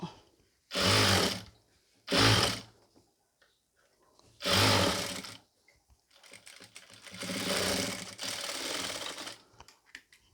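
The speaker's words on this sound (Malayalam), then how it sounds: "അതിൻ്റെ മുകളിൽ കൂടി ഒന്ന് സ്റ്റിച്ച് ചെയ്ത് കൊടുക്കണം" A sewing machine stitches a pleated nighty in three short bursts, then runs in two longer, steadier stretches, loud and close with quiet gaps between.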